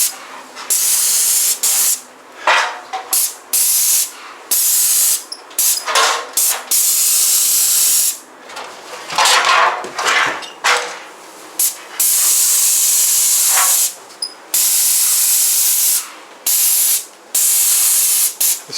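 A cheap Chinese 211 airless paint sprayer with small tips hisses in repeated bursts of varying length while spraying interior walls of an occupied 1943 home, loud and close, with short pauses between passes and no talking.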